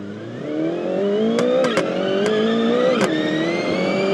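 A boosted four-cylinder engine in a muscle-style video game car called the Coyote revs steadily, its pitch climbing and dipping, with a few sharp pops cutting through the close, continuous drone.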